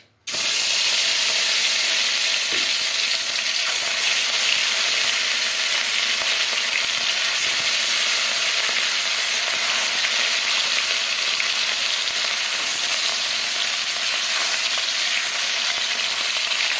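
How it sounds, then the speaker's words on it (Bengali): Katla fish fries in hot oil in a wok, giving a dense, continuous close-up sizzle and hiss that stays loud and even throughout, with no voices. "কড়াটা গরমের কাছে তেল দিয়ে দেবো দিয়ে মাছটা ভাজা বসাবো তেলটা গরম হলে"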